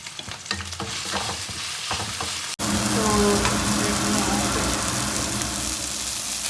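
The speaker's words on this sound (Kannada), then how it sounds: "Put some onion and ಸ್ವಲ್ಪ ಹೊತ್ತು ಸಾಟ್ ಮಾಡ್ಕೊಳ್ಳೋಣ." Onions sauté in a hot pan for chicken biryani, a loud continuous sizzle that swells abruptly after a short stretch of clattering and stirring, then holds steady and close.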